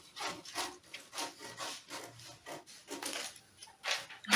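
Scissors cutting the side pieces of a princess-dart plunging V-neck blouse from fabric, a quiet close series of crisp snipping and sliding strokes in an uneven rhythm.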